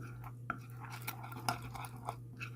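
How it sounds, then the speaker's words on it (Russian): A spoon stirs a thin mustard-based folk cough remedy paste in a small dish, producing soft, irregular scrapes and light clinks, faint and close over a low steady hum. "Все перемешиваем"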